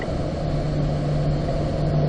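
A race car's engine pulls hard in fourth gear on the Spring Mountain circuit, a steady, loud, close drone with a constant low rumble and no talking.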